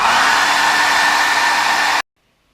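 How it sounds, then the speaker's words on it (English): A hair dryer, used to dry a drawing, blows with a loud, steady whoosh and whine for about two seconds, then cuts off to silence. "Now we're going to wait for this to dry or use our hairdryer."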